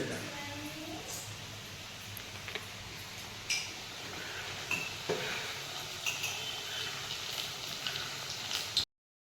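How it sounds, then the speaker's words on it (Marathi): Puris frying in hot oil, a steady dense sizzling hiss with scattered small crackles and pops, moderately quiet and continuous throughout. "आपलं तेल मस्त तापले. आता आपण पुरी टाकून घेऊ."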